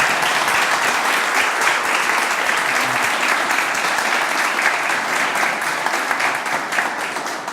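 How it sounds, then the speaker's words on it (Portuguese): An audience at a business leaders' event gives warm, continuous applause, a full, even roar of many hands clapping that holds steady throughout without pause. "uma salva de palmas aí pela sua iniciativa"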